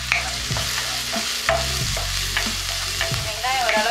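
Small onions sautéing with turmeric in a pan: loud, close sizzling punctuated by regular clanking scrapes of a spatula every half second or so, no talking.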